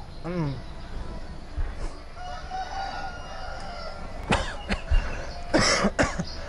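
Several harsh coughs come in a cluster near the end, close and loud, with a rooster crowing faintly earlier and voices murmuring around them.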